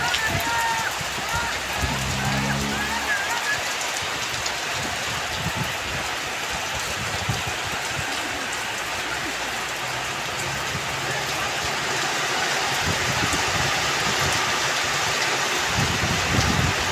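Heavy rain falls without pause in Malaysia, a loud continuous roar of drops drumming on surfaces, with a faint low rumble passing early on.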